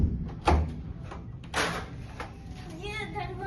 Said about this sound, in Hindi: ये दरवाजा कितना हैवी है।